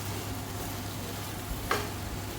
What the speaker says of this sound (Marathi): मीठ टाकायचं आणि व्यवस्थित आता हलवून घ्यायची ती भाजी आपल्याला.